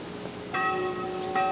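Church bells of the Church of San Miguel within the Guimarães Castle compound ring out, two clear, resonant strikes about a second apart with lingering overtones, moderately distant and without speech.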